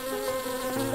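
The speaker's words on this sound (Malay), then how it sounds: "Super lebah menyerang Bon. Ada lebah." A bee buzzes in a LEGO animation, a close, steady, high droning hum that holds without a break.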